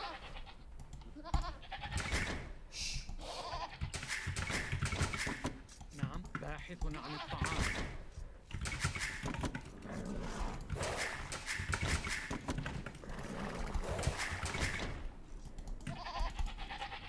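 Sheep bleating in Age of Empires, repeated short bleats scattered among busy game sounds, moderately close and fairly loud throughout.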